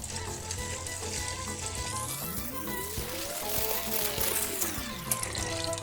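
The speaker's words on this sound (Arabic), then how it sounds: "وهنحط عليه المية" Water poured into a pot of rinsed lupin beans on the stove, a steady rushing splash that runs throughout with a faint rising and falling tone behind it.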